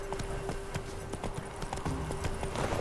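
A horse gallops in The Witcher 3: Wild Hunt, its hooves clopping in a quick, steady rhythm over continuous background noise.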